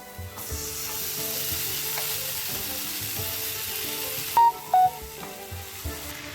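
Masala sizzling steadily in a pan as salted boiled tapioca goes in, a dense, even hiss held close throughout, with a few faint clicks and brief tones near the end.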